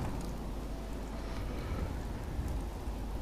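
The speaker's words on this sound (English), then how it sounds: "Rain, go away." Steady rain in the Fallout 4 video game, a dense even hiss of falling drops filling the whole stretch without pauses or voices.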